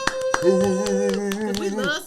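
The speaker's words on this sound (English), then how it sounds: "Clap it up for Jay-Z" Several distinct sharp hand claps land sporadically under a sustained voice, close by and fairly loud, with the clapping cutting through the ongoing talk.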